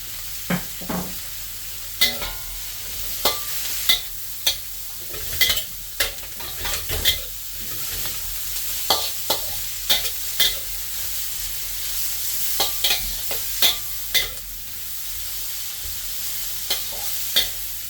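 Carrots and radish stir-fry in a hot pan with a steady, bright sizzle throughout, punctuated by repeated sharp scrapes and clacks of a utensil stirring close by, with no talking.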